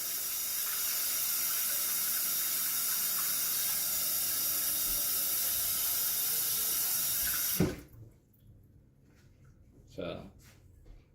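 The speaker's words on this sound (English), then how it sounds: "you can always add some hot water" Hot water pours steadily into a jar of homemade pickles, a loud continuous hiss and splash that stops abruptly, followed by a quieter spot with faint splashes and a voice.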